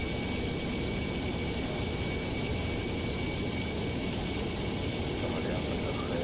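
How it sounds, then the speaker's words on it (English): The APU of an inibuilds A350 in Microsoft Flight Simulator makes a steady, loud airliner hum mixed with broadband hiss that never changes across the whole stretch. "or is the APU overpowering?"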